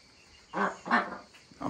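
Young ducklings give a few short, soft quacking calls at close range, with quiet pauses between them and no talking.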